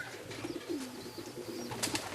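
Racing pigeons arriving at a loft in Łochów, Poland coo softly in low, murmuring phrases, with a few faint chirps and rustles nearby.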